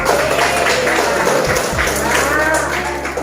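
Classroom applause from a group of students clapping together, a steady dense patter filling the clip with some voices mixed in.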